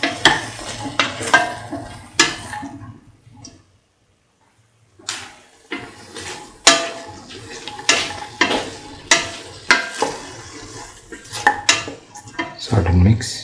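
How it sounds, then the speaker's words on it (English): Salt is stirred into lemon long yard bean rice with tomato pieces in a pan, a spoon scraping and clanking against the metal in quick, irregular strokes with a brief pause midway and a faint sizzle underneath. "Salt and mix thoroughly."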